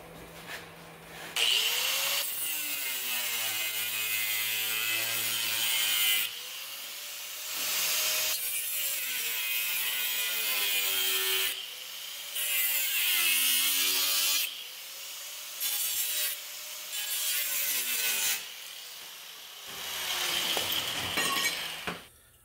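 A piece of steel sheet is cut out with hand tools in bursts of harsh, rasping strokes, loud and close, each stroke rising and falling in pitch, separated by short pauses, with no talking.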